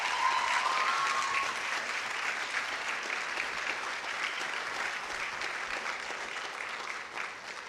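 Steady applause from an audience at an awards ceremony, full and sustained for several seconds before gradually thinning toward the end, with no voices over it.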